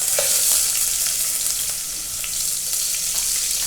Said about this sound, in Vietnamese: mình cho một ít dầu vào đây, mình phi lên, bắt đầu xả bỏ vô